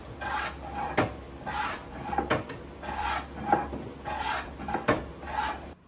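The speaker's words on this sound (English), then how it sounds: "And here, I just chamfer the sides." Hand tools chamfer the side edges of a handmade wooden bench, making repeated rhythmic rasping strokes with sharp clacks between passes. Close up, steady and even, with no talking.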